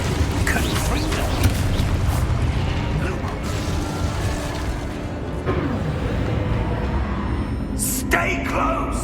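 A Confringo blasting spell goes off in Hogwarts Legacy, heavy booming blasts and rumbling over continuous combat noise, with voices talking intermittently.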